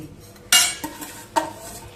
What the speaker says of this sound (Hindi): सेवैयों को चाशनी में अच्छे तरीके से मिला दें